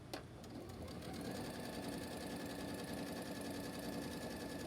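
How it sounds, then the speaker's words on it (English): Sewing machine running steadily at close range, stitching a cotton pillowcase with cotton quilting thread, a brief click at the start and then a continuous even mechanical drone. "I did back stitch at the beginning and end"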